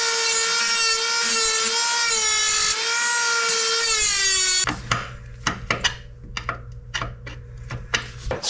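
Wire wheel grinds a groove into a stuck brake line fitting on a Jeep TJ Wrangler, a loud steady high whine for several seconds, then stops, followed by scattered clanks and scraping.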